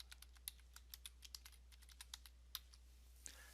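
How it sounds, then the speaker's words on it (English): Quiet, crisp keystrokes tap on a computer keyboard as an address is typed, an irregular run of light clicks with short pauses, close and alone over a low steady hum. "type the address"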